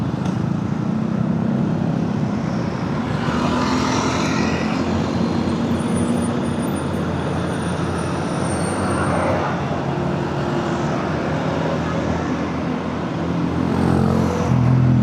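Congested road traffic near a petrol station and junction on Jalan Suci in Bandung, a continuous loud drone of idling and creeping cars, trucks and buses with engine rumble and a faint hiss of air brakes.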